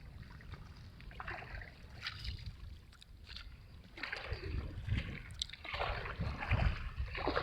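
Oars splash and swish through water at a slow rhythm, with gentle lapping and trickling around a small boat outdoors.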